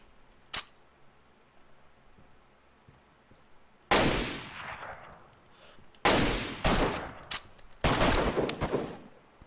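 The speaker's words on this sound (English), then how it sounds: "He's shooting at me now." Gunfire from an enemy in a first-person shooter game, a single sharp shot followed by three louder bursts of rapid shots a couple of seconds apart, each trailing off, with no talk.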